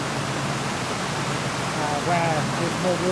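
Water rushes steadily into a narrowboat lock pound, a continuous broad roar throughout, with a voice talking over it in the second half.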